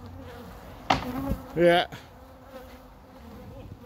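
Aggressive killer honey bees swarm around a house during a colony removal, buzzing loudly close by with a sharp rising drone, and a voice speaks briefly over them.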